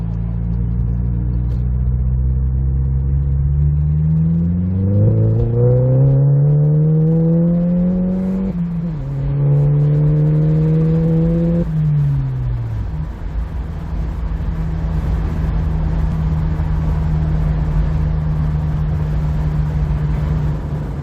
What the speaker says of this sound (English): You can hear the exhaust noise inside this little tunnel here.